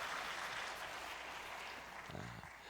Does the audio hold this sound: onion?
no